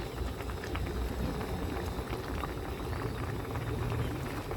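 Tilapia soup with young tamarind leaves simmering in a pot, giving a steady, dense bubbling and gurgling close by that holds an even level throughout with no pauses.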